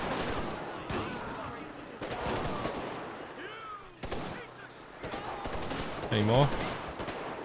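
Gunfire from shooting zombies in a GTA 5 zombie mod on an island, with bursts of shots scattered across the scene beneath continuous talking voices.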